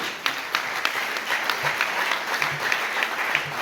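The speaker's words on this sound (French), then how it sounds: "Applaudissez." A commemoration audience claps steadily, with a few sharper individual claps standing out from the group and faint murmur underneath.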